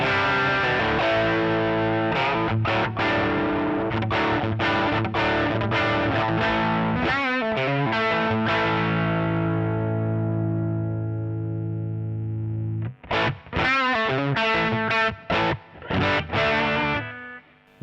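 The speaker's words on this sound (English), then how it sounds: "There is also the AC booster, which has got a bit more gain." An electric guitar plays through the AC booster drive of a NUX MG-300 multi-effects unit, giving a mildly distorted tone. Sustained chords ring out, then short choppy strummed bursts follow, with no talking.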